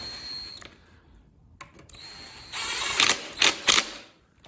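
Impact wrench tightening the caliper bolts on a SYX Moto MK40 dirt bike during setup, heard as several short, loud, harsh mechanical bursts up close near the end, with quieter clicks and handling noise before them.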